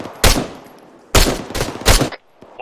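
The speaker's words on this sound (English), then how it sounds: "Blue team open fire." Gunfire opens on a bunker during a military-style patrol operation: a single loud shot, a pause, then three more sharp bursts in quick succession, close and loud, with faint background noise between.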